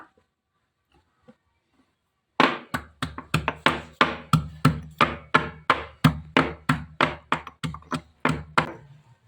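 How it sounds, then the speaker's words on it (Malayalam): Small onions (shallots) are crushed for a recipe, about nineteen sharp, evenly spaced pounding knocks starting after a quiet pause, loud and close, each with a brief dull thud. "ചെറിയ ഉള്ളി ചതച്ചെടുക്കുക."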